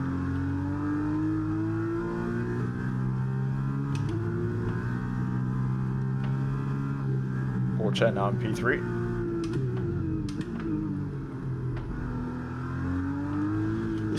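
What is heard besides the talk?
Formula 1 car engine revving in F1 23 video game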